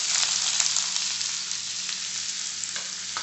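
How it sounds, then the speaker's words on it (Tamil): Chopped onions fry in ghee with fennel seeds in a pan, an even, dense close sizzle holding steady throughout with faint stirring touches and no talking. "இப்போது இதில் ஒரு 4 பெரிய வெங்காயத்தை பொடிசாக அரிஞ்சு வச்சுருக்கேன்,"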